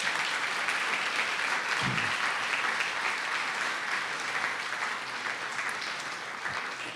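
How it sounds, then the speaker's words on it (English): A crowd at a high school athletic hall of fame induction ceremony claps for the inductees in a steady, continuous wash of applause from a large room, slowly tapering near the end. "Let's hear one more round of applause for all of our inductees."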